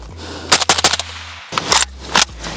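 A PSA AK short-barreled rifle fires off the rest of its magazine in loud, sharp bursts of rapid shots, with a brief pause partway through and a low background hum.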